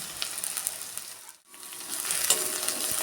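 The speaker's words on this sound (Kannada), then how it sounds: "ಸಾಸಿವೆ ಚಟ್ಪಟ ಆದ ನಂತರ ಈರುಳ್ಳಿಯನ್ನು ಹಾಕುವ. ಈರುಳ್ಳಿ ಫ್ರೈ ಆಗಲಿ." Onion and green chili fry in hot oil with mustard seeds, a close steady sizzle and crackle that briefly drops away before returning louder and fuller, with no talking.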